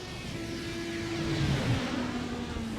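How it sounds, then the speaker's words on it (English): Simulated IndyCar engine roar from the iRacing game at Laguna Seca, a steady droning whine that shifts pitch as the car climbs a hill, continuous and fairly loud with no talk. "Sounds like a jet engine coming up on the top of that hill."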